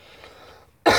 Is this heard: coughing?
yes